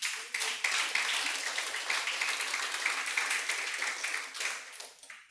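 A church congregation applauds, a dense, sustained burst of many hands clapping at a moderate distance, fading slightly toward the end.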